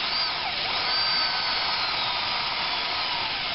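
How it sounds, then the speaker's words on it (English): A cordless drill whines steadily at high speed, pre-drilling pilot holes in the dash of a 2004 Honda Civic during a radio install, close and loud and continuous with no talking. "I'm going to pre-drill 2 pilot holes for this module"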